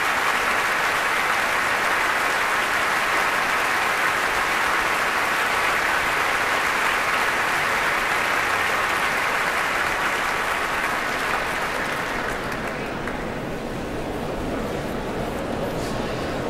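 Sustained audience applause fills the Royal Albert Hall at a classical violin concert, a steady wash of many clapping hands that thins slightly near the end.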